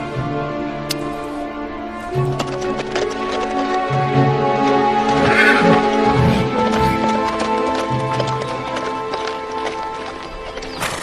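Horse hooves clip-clop steadily as a horse-drawn chariot arrives, with a musical backing running throughout and no talk.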